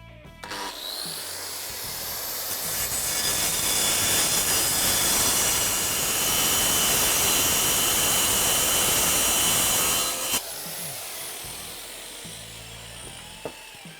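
Angle grinder fitted with a grinding disc cuts through thick rebar, a loud, sustained high-pitched screech that holds for about ten seconds before the motor spins down, with light clatter and handling noise afterward.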